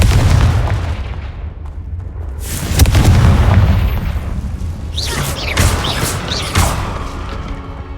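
A Confringo fire-curse spell bursts in Hogwarts Legacy, a loud booming explosion followed by crackling blasts and whooshing game effects, with further sharp impacts trailing off over several seconds and no speech.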